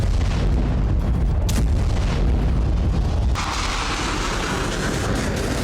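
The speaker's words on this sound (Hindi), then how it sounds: "यह धमाका इतना जोरदार था कि आसपास की जमीन कांप उठी थी।" Massive explosion at a weapons depot in Kyiv after a Russian air strike, heard as a loud, sustained deep roar and rumble with a sharp burst midway, then a continuing hiss and crackle of burning.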